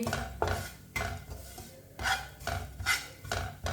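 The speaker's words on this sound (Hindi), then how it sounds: "मसालों को अच्छी तरह मिक्स कर लेंगे। पैन बहुत गर्म है, इसके लिए मसाले भी भुन जाएंगे।" Spices being mixed in a very hot pan with oil, scraped and stirred with a utensil in several separate strokes, each a short scraping burst over a faint sizzle, close and with no talk.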